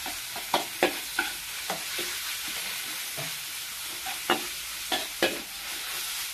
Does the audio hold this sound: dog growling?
no